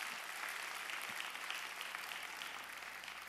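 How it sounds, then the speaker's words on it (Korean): A church congregation at a Sunday service claps to welcome a newly registered family, a continuous, fairly distant patter of many hands that stays even throughout. "우리 박수로 한번 환영하겠습니다."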